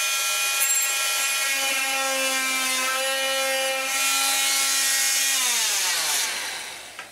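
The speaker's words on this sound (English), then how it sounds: "It is not needed below the exit hole, so I cut it open." A saw cuts open a groove in a wooden composite mast, giving a steady, close, tonal whine with ringing overtones that holds for several seconds, then drops in pitch and fades as the cut finishes.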